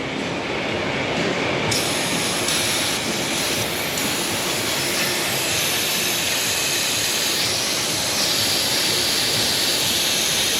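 Brake cleaner sprays onto a Chrysler 200 3.6 Pentastar engine bay in a continuous, loud, close hissing rush that runs steadily the whole time, with slight shifts in intensity and no voices.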